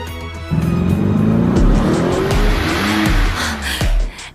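A car arrives outside, its engine revving up loudly and tires squealing as it swings in and skids to a stop, the loud rising whine holding for several seconds before dropping away.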